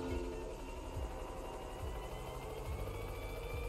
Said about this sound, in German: Das Helikopter können wir ja schießen.